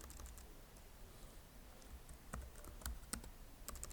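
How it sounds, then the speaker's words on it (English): Quiet typing on a computer keyboard, a run of light, irregular key clicks with a few sharper taps, faint and close, with no voices. "man, my typing."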